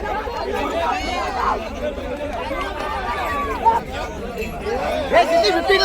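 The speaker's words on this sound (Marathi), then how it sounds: "हे बघा गर्दी बघा मित्रांनो, पब्लिक बघा." Crowd of villagers gathered at a boat procession during a Kokan Shimga village festival for the goddess Jakhmata, a steady dense babble of many voices close around, with a few louder shouts rising out of the hubbub.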